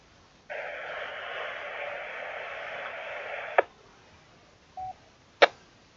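White noise hisses steadily for about three seconds on a ham radio net, then cuts off with a sharp click. A short beep and another click follow in near silence.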